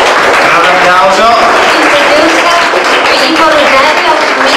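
A crowd at an end-of-season gala applauds a club president from Jesolo with loud, continuous clapping, and voices mix in throughout.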